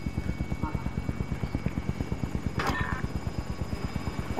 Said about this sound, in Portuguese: Ah, o helicóptero. Tem um helicóptero aqui.